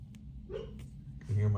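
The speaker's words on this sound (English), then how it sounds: "You can hear my dog in the background." A dog makes soft whimpering and muffled woofing noises while dreaming, faint in the background over a room hum, with a louder grunt at the end.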